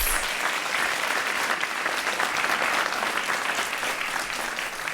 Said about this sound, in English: Can we give them a warm welcome with a round of applause, please?